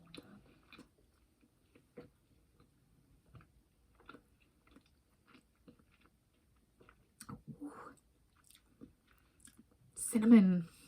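An apple fritter from Town and Country Markets, filled with cinnamon and apple pie filling chunks, is chewed with quiet, scattered smacks and soft crunches, ending in a louder, close burst of mouth sounds.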